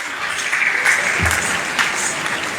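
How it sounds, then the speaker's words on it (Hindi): Audience applause after a stage performance, a steady broadband patter of many hands clapping at a fairly close, even level throughout, with no voices over it. "इस शानदार प्रस्तुति के लिए जोरदार तालियां तो बनती है।"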